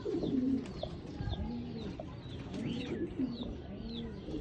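Soft, repeated coos of a Bateray pigeon in low rolling phrases, with faint chirps and light background noise throughout.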